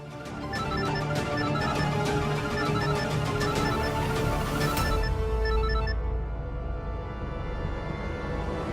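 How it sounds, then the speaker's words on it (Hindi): A phone ringtone plays as a repeating melodic tone over a busy background, then the ringing stops abruptly and leaves a low hum. "फोन तो यहीं बज रहा"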